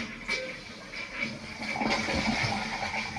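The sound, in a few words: toilet tank refilling with water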